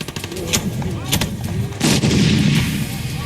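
Bursts of gunfire in battle in Mosul, Iraq, several sharp cracks spaced irregularly, followed by a louder, sustained rumbling volley near the end.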